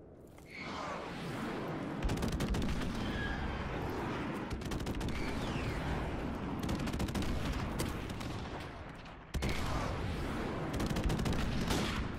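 Friendly airstrike in a shooter video game: sustained dense rumbling barrage of gunfire and blasts filling the whole stretch, with a sharp fresh burst near the end.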